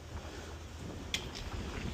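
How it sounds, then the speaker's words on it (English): Wind gusting across an outdoor yard during a backyard pond build, heard as a low buffeting rumble against the microphone that swells briefly about midway and keeps blowing to the end. "Whoa, get windy."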